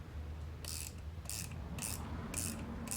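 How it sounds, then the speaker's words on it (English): Two wrenches tightening the top nut on a KYB rear shock from a 2005 Acura TSX: a steady metallic ratcheting clicking in short repeated bursts, close and alone. "On these KYB shocks, you need to use 2 wrenches to tighten the top nut."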